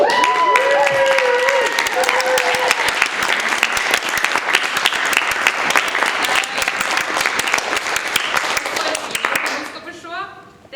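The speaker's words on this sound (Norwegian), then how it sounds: "Det synes jeg fortjener en applaus." Theatre audience giving a theatre company a full, dense round of applause, loud and sustained for about ten seconds before fading, with a voice heard over the start and end.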